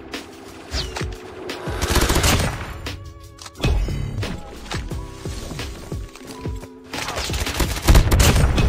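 Bursts of gunfire from Call of Duty Mobile, rapid machine-gun volleys and single shots, arrive in loud clusters with brief lulls between them, mixed with thuds and game effects.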